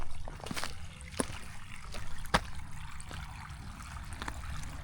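Water trickles and seeps steadily in a farm trench as an old water line is disconnected, a faint continuous dribble broken by a few sharp clicks and knocks.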